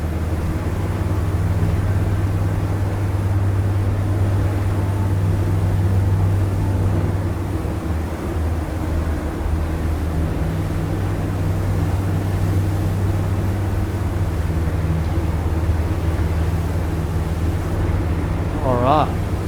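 Engines of a Caribbean 40F powerboat drone steadily at about 1750 RPM and 20 knots at sea, a constant low hum with wind and hull noise, a voice speaking over it.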